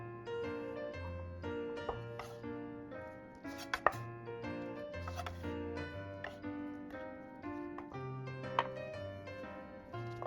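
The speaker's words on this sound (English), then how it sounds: "Finely chop half red onion" A knife finely chops half a red onion on a board while cooking for a homemade Chipotle-style bowl. Faint, quick taps sound under steady background music, and a few sharper knocks stand out.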